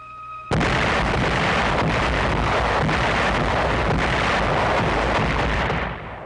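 Allied artillery guns open fire along the front in wartime Italy, a sustained, loud barrage of rumbling booms and blasts merging into continuous roaring thunder, with no voices.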